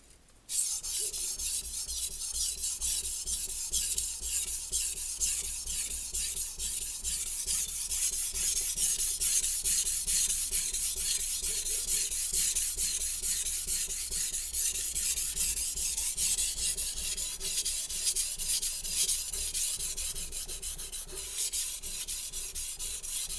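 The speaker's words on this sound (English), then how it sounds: "I very slowly bring the knife into this angle while I'm sharpening" A Santoku knife blade is drawn steadily across a wet sharpening stone, making continuous rhythmic scraping and rasping strokes at a close, even level for the whole stretch, with no talking.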